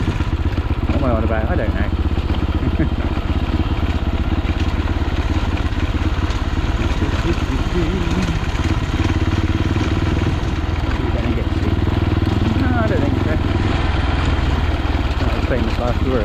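A big adventure motorcycle rumbles steadily along the Trans Euro Trail in Cornwall, its engine drone constant and close throughout while a rider talks over it.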